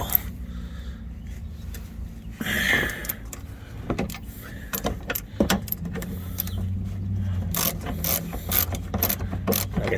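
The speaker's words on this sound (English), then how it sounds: "If you got a short socket, it might be easier here. I'm using a long, so it's fighting me against the fender." A long socket wrench ratcheting on a front shock bolt of a second-generation Dodge Ram, cramped against the fender, giving bursts of sharp clicks separated by pauses and a few metallic knocks, close and loud, with no talking.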